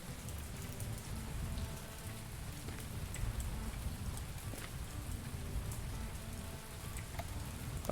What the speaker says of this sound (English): I feel cooler because of the fake rain.